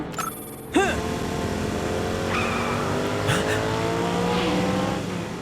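A cartoon race car speeds along a track, a loud sustained engine roar with sweeping pitch changes and a sharp burst near the start, with no talking.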